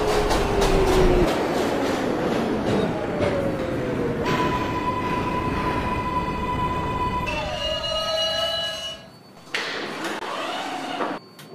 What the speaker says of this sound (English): This is a Pelham Bay Park bound 6 local train.